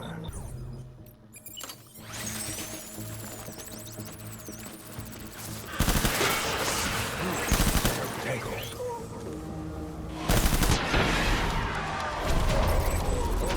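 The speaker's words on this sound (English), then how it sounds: "Taking fire." Rapid bursts of gunfire crackle during a firefight in Death Stranding, bursts of automatic fire and sharp cracks that grow louder and denser partway through, with crashes and game sound mixed in.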